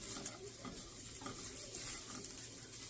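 Soft scraping and clinking of a spoon stirring a chicken taquito mixture in a bowl, with oil faintly sizzling as it heats in the background, close and quiet.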